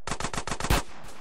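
Automatic gunfire in GTA San Andreas, a quick burst of about six loud rapid shots ending in a heavier blast, with no talking.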